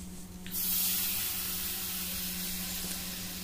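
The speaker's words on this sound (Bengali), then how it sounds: "এখন তরকারিটাকে আমি ঢেলে দিব।" Curry poured into a hot frying pan bursts into a loud, steady sizzle that starts abruptly and keeps hissing at an even level, with no one talking.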